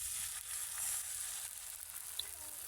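Chopped onions frying in hot oil over whole garam masala, a faint, steady high sizzle with a small pop near the end.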